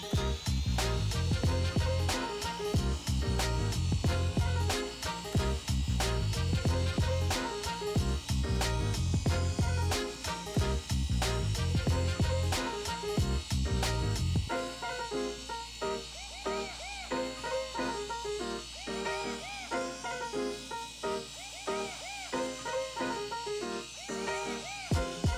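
Car polisher buffing paint with fresh abrasive and compound at speed 3 to 4, a steady high whirring drone with rhythmic clicking, shifting to a smoother hum partway through, close and continuous.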